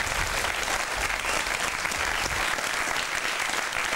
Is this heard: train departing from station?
no